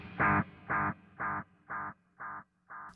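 Guitar played through an Ampero 2 with the delay mix turned fully up: a short, quick phrase answered by a clear run of repeating echoes, six distinct evenly spaced bursts that fade step by step.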